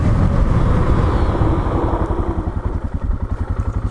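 An old Suzuki DR motorcycle braking hard into a stoppie, loud and close: a rough engine roar dropping away into a low, pulsing idle-like chug with light clatter as it comes to a stop.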